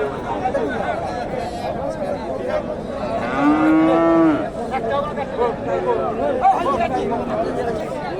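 Cattle moo loudly at a crowded Bogura cattle market, one long bellowing call rising midway, surrounded by a steady hubbub of chatter from buyers and traders.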